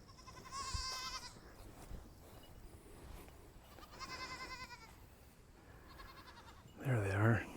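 Goats in a pasture bleat in several separate calls, a few strained, wavering cries spaced across the clip, with the last one louder and nearer.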